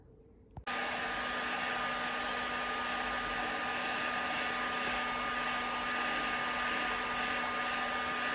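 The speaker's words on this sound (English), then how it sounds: "quick blast with a plastic razor blade and heat gun" A click, then a steady, loud heat gun starts up and runs continuously with a constant whirring hum and rushing air, used to strip paint from a vintage S-Works mountain bike.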